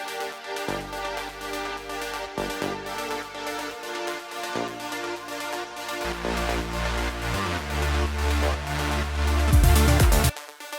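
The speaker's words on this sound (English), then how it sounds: "We've got a wee arp here as well," A simple synth arpeggio holds one sustained note, pulsing in a rapid, even rhythm over building low synth layers that swell louder toward the end, with no voices.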